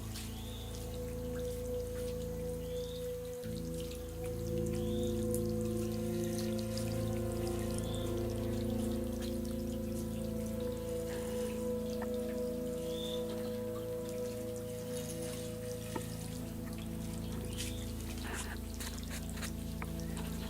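Water trickles and splashes steadily through a miniature ornamental waterfall, a continuous soft patter with a faint hum underneath and no talking.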